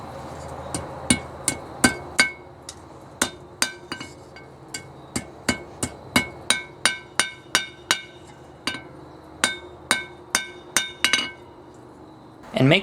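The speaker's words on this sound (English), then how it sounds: "I will then hammer out the tang again to achieve an S shape." Hammer strikes ring out on a steel knife tang being bent into an S shape, a steady run of bright metallic clinks at a regular pace, close up, fading at the end into a brief rustle.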